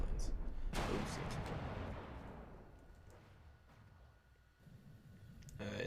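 In the video game From the Depths, ship cannons and turrets fire in a heavy boom that rings out and decays over several seconds, followed by softer distant shots and clicks, with someone talking over it.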